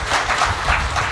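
An audience claps for LIC at a sales talk, a dense burst of applause lasting about a second, fairly loud and steady.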